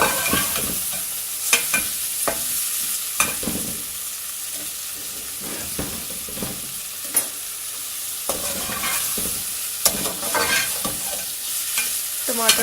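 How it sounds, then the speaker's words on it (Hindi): Green chilies and tomatoes frying in a pan for a bhindi handi dish, a constant hiss of sizzling oil with repeated sharp scrapes and clinks from stirring, heard near and without voices. "अब हम इसमें ऐड करते हैं हरी मिर्ची और टमाटर और इसको फ्राई करते हैं अच्छी तरह"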